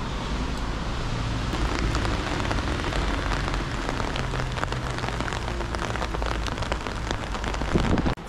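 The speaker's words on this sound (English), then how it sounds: "It's actually a significantly rainy day out." Steady, dense rain pours down on a Tokyo street, a continuous hiss of drops spattering pavement, with a low rumble of passing traffic underneath and no voices.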